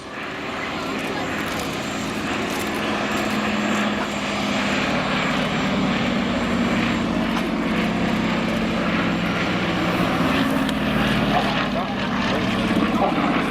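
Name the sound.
Fairey Swordfish biplane flying in an air display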